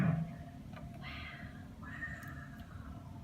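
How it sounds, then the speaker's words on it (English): A recorded bear vocalization plays quietly through a smart speaker as Google Assistant's answer, a few drawn-out calls over a low background hum. "A bear sounds like this."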